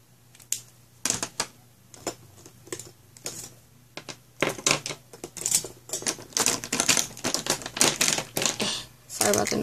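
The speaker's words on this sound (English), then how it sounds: "putting everything back in the pencil cup" Pens and pencils clatter back into a pencil cup in a series of sharp, irregular knocks and rattles that grow busier and denser toward the end, close by and fairly loud.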